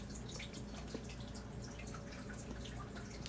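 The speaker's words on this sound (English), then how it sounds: "I really need to add some more warm water to it to make it a little bit" Warm water trickles and drips onto drying leather during a boot repair, a soft continuous patter over a faint, steady background.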